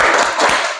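Children in a classroom clap together for a focus clap, a quick burst of scattered claps and taps, loud and close, under a second long.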